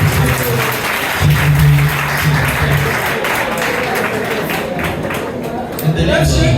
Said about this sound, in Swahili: Sisi tunaweza pigia mzee makofi.